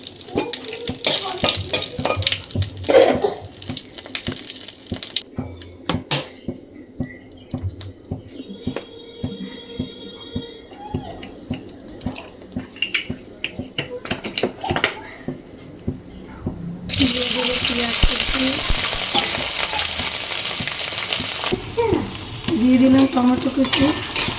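Bay leaves and whole garam masala frying in hot oil, with crackling, spitting sizzle, soft stirring clinks, and a louder burst of frying toward the end, heard without talking.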